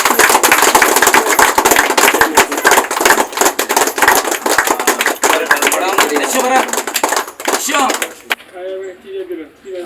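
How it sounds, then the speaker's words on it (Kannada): A birthday gathering breaks into loud, sustained applause, with many overlapping claps and voices for about eight seconds before it stops abruptly. A person keeps speaking after the clapping ends. "ಮತ್ತೆ ಜೋರ ಚಪ್ಪಾಳೆ ಚಪ್ಪಾಳೆ"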